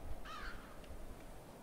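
A lone crow-like bird caws once in the eerie monochrome platformer Limbo, a short harsh call rising above a low, murky ambient drone, fairly faint and without any voices.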